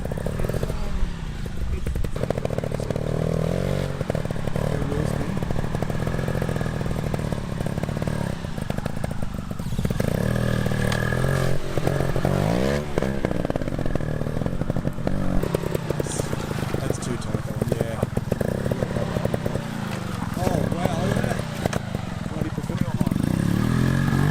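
A trials motorcycle working through tight taped turns on a practice course, its engine burbling and revving up and down at close range, with people talking over it.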